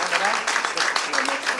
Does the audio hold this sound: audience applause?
yes